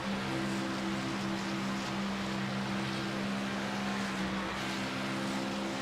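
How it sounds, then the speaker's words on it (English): A steady iRacing Xfinity Series car engine at Superspeedway drones at a low, even pitch with faint hiss around it, the throttle barely changing throughout. "you can hear him just play with the throttle ever so slightly"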